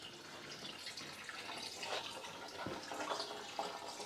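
Coolant runs steadily out of an unplugged drain point in the heating system of a Princess 2200 HLS boat, a faint, continuous trickle and splash with no talking.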